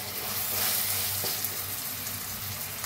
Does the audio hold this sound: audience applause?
no